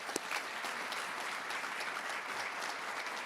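An audience at a faculty awards ceremony applauds for Jennifer, a steady even patter of many hands clapping, heard fairly far off and quiet with no voices over it.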